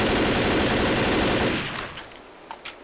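Sustained rapid automatic gunfire in the zombie shooter game Left 4 Dead, loud and continuous, then tapering off into quieter scattered noises and a couple of soft knocks.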